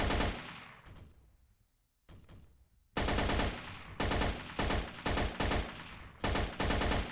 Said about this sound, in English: it just pumped a bunch of rounds into him